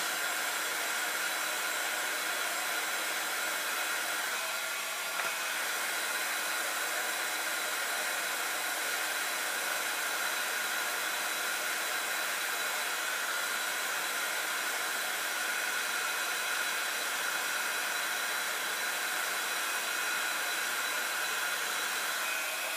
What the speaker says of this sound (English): And you just want to heat emboss until you see them change.